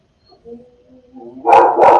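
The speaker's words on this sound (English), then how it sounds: "I hope mine don't start barking" A dog gives two sharp, loud barks near the end, after a soft whine from quiet surroundings.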